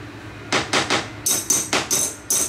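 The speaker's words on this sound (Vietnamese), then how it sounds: "Búa thép nha mọi người, đầu bằng thép," A steel hammer with a wooden handle knocks several times in an uneven series of sharp, close taps, about eight strikes in under three seconds, alone with no talking.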